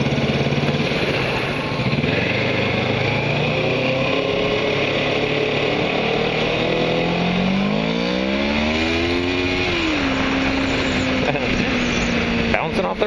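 A motorcycle engine revs hard near its red line, loud and close. The pitch climbs steadily, holds high, then drops back to a sustained drone.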